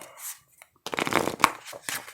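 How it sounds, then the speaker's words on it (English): Cards riffle and shuffle close by in a brief burst of papery flutter, followed by a few softer shuffling rustles. "All right, let's get one more shuffle."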